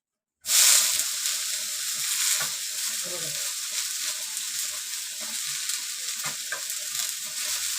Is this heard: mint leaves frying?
yes